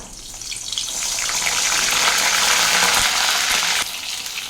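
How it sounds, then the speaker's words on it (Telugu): Stuffed brinjals (gutti vankaya) drop into hot oil and fry with a loud, steady hiss and crackle that swells, holds for a few seconds, then eases off, with no talk. "ఇప్పుడు ఇవి ఆయిల్లో వేసేస్తున్నాను."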